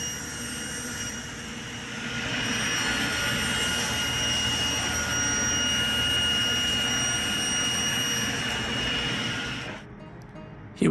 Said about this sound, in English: Now we're going to take it to the table saw and trim it up.